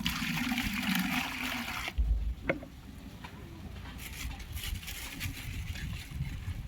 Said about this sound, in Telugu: దీంట్లో హాట్ వాటర్ అండి, వేడి నీళ్ళు, ఒక మగ్గడి వేడి నీళ్ళు.